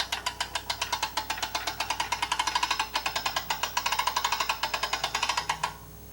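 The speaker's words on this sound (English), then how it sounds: "you will take the lifting device and crank it to lift the mast off its stand" Hand-cranked lifting device raising an antenna mast off its stand gives a fast, even series of close mechanical clicks for about five and a half seconds, then stops.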